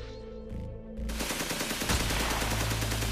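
Dense automatic gunfire erupts after a quieter start, rapid continuous bursts of loud shots in a reenacted night raid on Entebbe airport's terminal and checkpoint.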